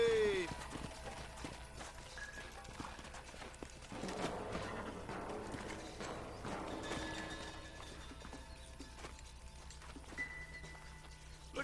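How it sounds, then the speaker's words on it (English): Horses' hooves clop steadily in a video game Western scene, a soft continuous patter of several horses under background game sound and talk. "Let's hold up a minute and find a spot for our horses."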